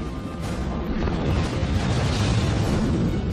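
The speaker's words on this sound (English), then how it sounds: "a steam generator, rigged to produce a high-pressure gas explosion" High-pressure gas explosion from a steam generator launching a V-1 flying bomb, a loud sustained rushing blast that swells and roars across the whole stretch without talk.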